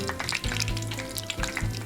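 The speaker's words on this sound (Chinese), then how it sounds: "油温在接近170摄氏度的时候，依次放入春卷，一次不要放太多，然后始终保持低温炸制。" Thai spring rolls deep-fry in oil held near 170°C, giving a close, continuous sizzle and crackle throughout, with no voices.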